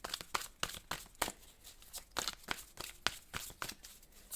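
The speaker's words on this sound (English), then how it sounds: "I hope you don't mind me shuffling." Tarot cards are shuffled by hand in quick, repeated riffles, a close, crisp flutter of card edges that runs steadily and quietly with no talking.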